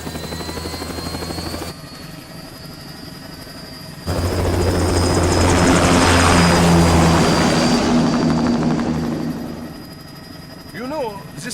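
In the video game Metal Gear Rising, an aircraft takes off with a loud, swelling engine roar. The roar rises sharply, peaks and then fades away, with a radio-style voice speaking briefly near the end.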